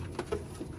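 Soft, low pigeon coos in short bursts, faint and close, against a quiet background.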